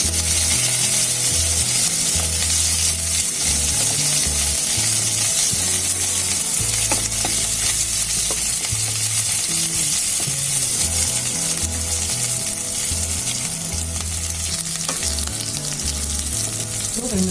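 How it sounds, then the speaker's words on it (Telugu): Chopped onions and green chillies fry in a pan with a strong, continuous sizzle close at hand, a low hum running underneath throughout. "ఇది కొంచెం దూరగా వేయించుకుందాము"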